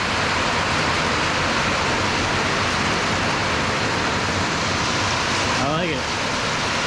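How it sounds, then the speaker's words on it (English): Heavy rain pours steadily outdoors in Wisconsin, a dense, loud and continuous hiss that fills the whole clip, with a brief voice-like sound near the end. "it's coming in here a little bit because it's raining so hard"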